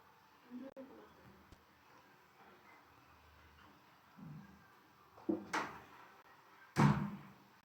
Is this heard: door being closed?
yes